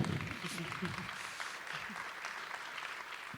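A festival Q&A audience applauds a mention of the film The African Queen, with soft, diffuse clapping under a speaking voice at the start.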